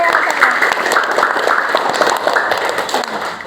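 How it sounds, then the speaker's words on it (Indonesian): A group of teachers or participants clapping together in a classroom-style session, steady dense applause throughout, with voices mixed faintly underneath. "Tepuk tangan buat saya semua."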